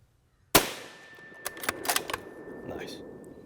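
A single loud, sharp rifle shot cracks out on a shooting range during group practice, followed by a ringing echo and a few metallic clicks and rattles of the rifle's bolt action.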